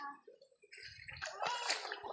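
Flowing water from a forest creek at a resort near dusk, soft at first and then swelling into a steady, close gurgling rush.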